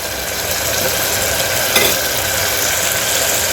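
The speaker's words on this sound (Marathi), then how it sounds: "आता याला छान ब्राऊन होतपर्यंत भा भाजून घ्यायचं आहे आपल्याला मस्त छान परतून घ्यायचं आहे" Masala paste for Nagpur-style chana poha sizzles and fries steadily in hot oil, a close continuous crackle with a faint stir partway through and no voices.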